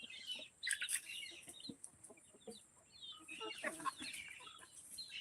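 Country hens on a farm cluck and chatter nearby in short, overlapping bursts, with a few higher squawks; no talking.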